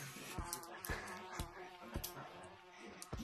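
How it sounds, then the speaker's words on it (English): Insect-like buzzing from bees in a VR video game, a faint steady drone broken by repeated short sharp clicks and taps throughout. "I bet the bees are gonna catch me."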